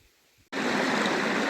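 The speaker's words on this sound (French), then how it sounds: "Ah, je sais pas si vous allez m'entendre, parce que là, il y a la petite cascade." A small waterfall on a countryside walking route along the Via Gebennensis: a steady, rushing wash of falling water that starts abruptly after near silence and stays loud and even.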